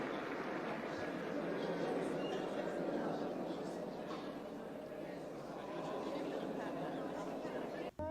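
Indistinct crowd chatter from many people murmuring and talking at once runs through The Shining's end credits: a continuous, mid-level babble with no single voice standing out and a brief sharp knock near the end.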